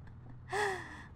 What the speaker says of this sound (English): Oh, you yawned.